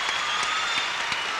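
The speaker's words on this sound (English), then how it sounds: "so you'll hear the crowd roar." Crowd at a 1989 US women's gymnastics team trials meet in a gymnast's hometown applauding and cheering, a steady dense wash of clapping and roar filling the arena, loud and continuous throughout.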